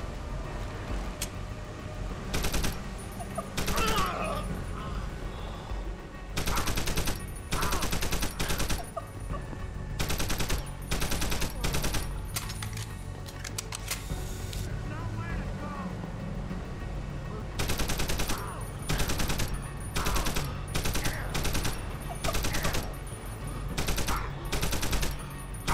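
Firefights in Deus Ex: Human Revolution Director's Cut: repeated loud bursts of automatic gunfire in clustered volleys with short gaps, close and harsh, over a low ambient rumble, with someone occasionally talking between them.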